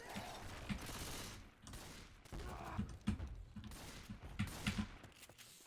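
Machine gun fire in Left 4 Dead 2, bursts of rapid shots mixed with mechanical clatter, fairly faint and muffled, several bursts spread across the stretch with no voice over them.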